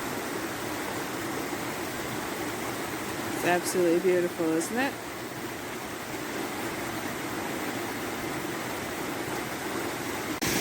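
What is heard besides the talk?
river water flowing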